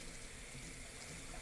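Tap water runs steadily into a kitchen sink while a cleaning rag is rinsed out, a continuous close rushing splash with no talking.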